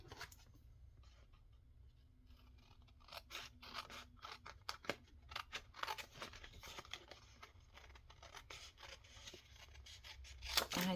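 Scissors snip and slice through a paper junk mail envelope in a series of close, crisp cuts and scratchy paper rustles, irregular in rhythm and fairly quiet, with no talking.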